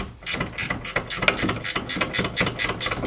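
A ratchet loosening the 14 mm caliper adapter bolts on the rear brakes of a 2011–2015 ninth-generation Honda Civic: a quick series of close, crisp clicking pawl strokes in an even rhythm, with no talking.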